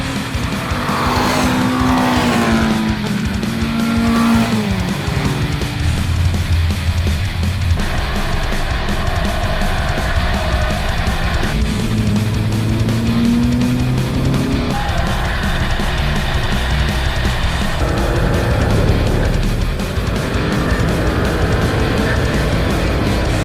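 A Golf Mk7R racing a lap on Advan A09 tyres: loud continuous engine roar rising and falling through gear changes, with tyre squeal and skidding through corners, heard close throughout without talk.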